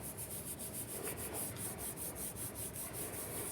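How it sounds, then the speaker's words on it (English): A hand rubs steadily across the back of a reduction print to transfer ink, producing a continuous close, dry scraping friction with a faint repeating rhythm and no talk. "rubbing the whole back, making sure you transfer every bit."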